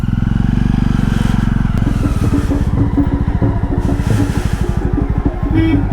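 A Jawa 42 motorcycle rides off on a Himalayan road in Uttarakhand, its close, loud, thumping exhaust pulsing rapidly as it pulls away, with faint background voices.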